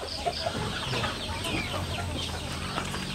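Native Darag breeder chickens on a farm clucking continuously, several birds close by with overlapping soft calls and occasional sharper clucks over low rumbling background, no talking.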